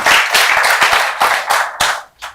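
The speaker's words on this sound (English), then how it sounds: "Those hand claps are not enough." Audience clapping at a youth policy conference in Kampala, a brief burst of hand claps that thins out into a few scattered, separate claps near the end.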